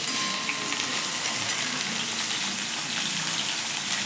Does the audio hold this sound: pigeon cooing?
no